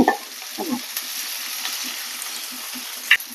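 Green chili, a dried red chili and curry leaves sizzle steadily in hot oil in a pan for a cucumber and potato curry, with a few stirring scrapes and crackles over the continuous frying hiss, no voices.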